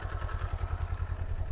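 Motorcycle engine idling at low speed during a training-school slow-riding exercise, a close, steady low throbbing putter with a regular rhythm throughout.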